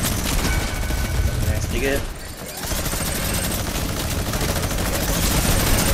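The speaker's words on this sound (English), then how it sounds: "Who the fuck is shooting that shit?" Dense, continuous gunfire from a shooting video game: rapid automatic bursts crackle loudly throughout, briefly easing for a moment before resuming, with a player's short remark heard over the shots.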